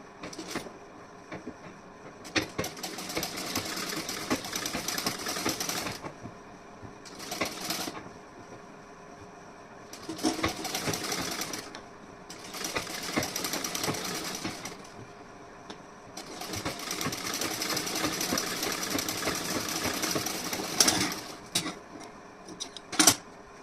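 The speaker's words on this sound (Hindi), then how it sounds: "यहाँ पे मैं एक सिलाई और लगा देती हूँ।" A sewing machine stitches a decorative neckline in several bursts, each running a few seconds before stopping, with short quiet gaps between them and no voices.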